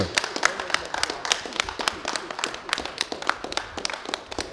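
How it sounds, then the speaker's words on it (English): Applause from a crowd at a comedic show, with sharp individual claps standing out over a steady patter of hands, continuous for several seconds alongside some voices. "now the thunderous applause"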